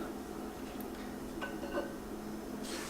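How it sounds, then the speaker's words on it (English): A soft clink of pieces of fish being set into a clay pot for Vietnamese caramelized clay pot fish, a couple of faint knocks against the pot in a quiet kitchen. "I want to carefully place my fish inside the clay pot"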